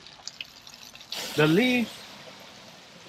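Rainwater runs steadily through a gutter strainer with leaves and debris thrown on top, a continuous trickling wash while someone speaks briefly over it.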